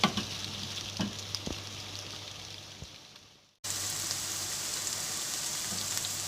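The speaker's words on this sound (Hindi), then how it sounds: "प्याज को हम उस वक्त तक फ्राई करेंगे जब तक वो लाइट गोल्डन ना हो जाए।" Sliced onions fry in hot oil, a steady close sizzle and crackle that dips briefly then resumes at full strength.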